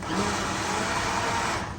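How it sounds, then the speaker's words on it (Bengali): Hand blender whirring steadily through butter chicken gravy in a pot, a continuous close motor drone with no breaks, alone without talk. "এখন যেটা করবে যে হ্যান্ড ব্লেন্ডার দিয়ে এটাকে ব্লেন্ড করবো"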